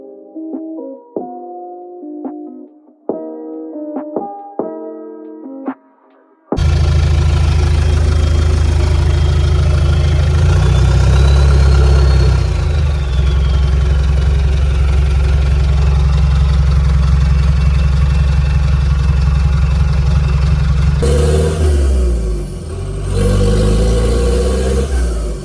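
Car engine running with no exhaust fitted after a gearbox rebuild following mud and water ingress, loud steady deep drone with revs shifting, starting abruptly after a few seconds of quieter tonal sounds.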